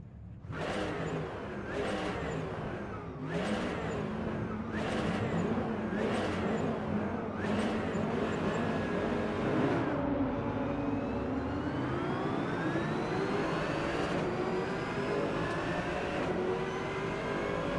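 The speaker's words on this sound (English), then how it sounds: "See how this AMG sounds." Mercedes-AMG race car engine in the Rennsport racing game at Monza, loud and close, revving up through several quick gear shifts and then holding a steady high drone.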